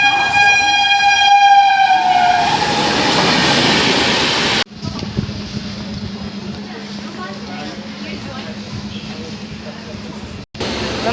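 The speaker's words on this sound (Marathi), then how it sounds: "आता ट्रेन येईल 4:30ची, तेव्हा आता आपण ट्रेनमध्ये बसून मग आपण तुमच्याशी बोलून घेऊया." A train arrives at a railway station, sounding a loud, sustained horn blast for several seconds before it gives way to a heavy rumble and rolling clatter of the carriages, with voices faint in the background.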